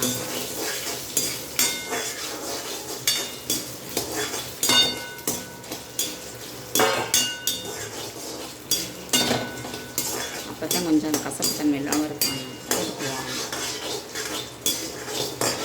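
Dried turkey berries sautéing in oil in a metal pan, with a constant soft sizzle under frequent clinking and scraping of a spoon against the pan, close and continuous, no voices.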